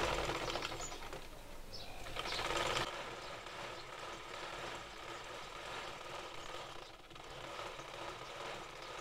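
Sewing machine running continuously while stitching along the side of a garment's fabric body, a steady mechanical whir with a louder, busier first three seconds before settling into a quieter, even hum.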